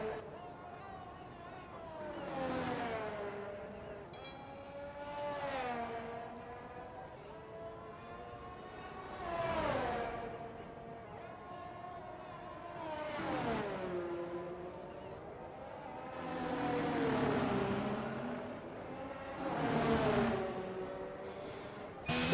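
F1 2022 racing game cars on the out-lap at Abu Dhabi, engine notes sweeping up and down in repeated gear-change cycles at moderate distance, with a commentator talking throughout.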